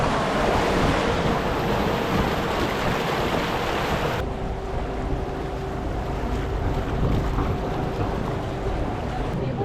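A tour boat motors along a canal in Bruges. A steady engine drone mixes with wind buffeting the microphone and the wash of water, all loud and continuous, with a faint hum beneath after the wind eases.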